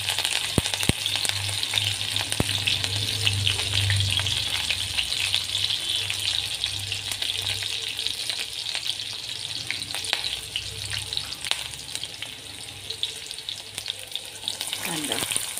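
Garlic, green chilies and onion sauté in a hot pan with a strong, constant sizzle, broken by scattered scraping stir sounds and small pops near the start.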